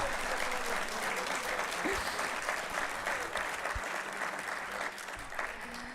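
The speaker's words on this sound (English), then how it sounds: "Let's hear a clap for WhatsApp calls" Audience applause at a dental medicine graduation ceremony, a full room of steady continuous clapping at moderate distance, even and unbroken, easing a little near the end.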